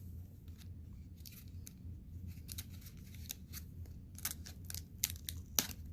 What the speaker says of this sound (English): Let's cut this tape carefully.